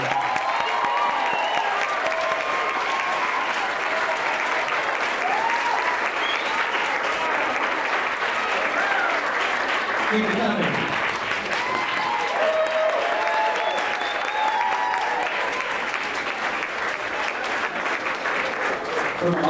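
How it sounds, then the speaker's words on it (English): A graduation audience for a 9th-grade class breaks into a sustained, loud round of applause that stays steady for the whole stretch, with a voice calling out briefly over the clapping. "Let's give these now 9th graders one final round of applause."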